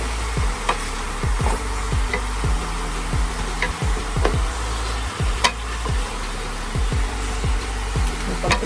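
Pork ribs fry in a pan with bay leaves while browning for adobo, giving a steady close sizzle with scattered pops and crackles and faint low background hum, no talking.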